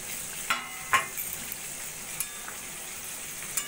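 Fried pakoras are added and stirred into a simmering Punjabi kadhi curry, with a faint bubbling sizzle and a few soft spoon clinks and splashes rising over the quiet background.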